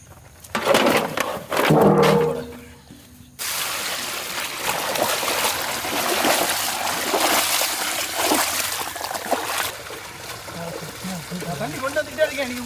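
Water is poured steadily into a pot while a chicken leg-piece curry is being cooked, making continuous splashing and trickling sounds throughout, with a voice talking over it.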